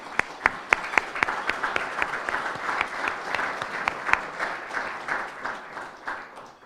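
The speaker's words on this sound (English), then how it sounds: "a big round of applause to the current board" Audience at a project management chapter meeting giving a round of applause, dense clapping with a few sharp near claps, sustained and then slowly fading.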